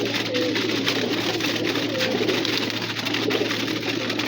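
Pigeons of a good bloodline coo steadily inside a cage, soft overlapping calls continuing close by throughout with a constant low background hum.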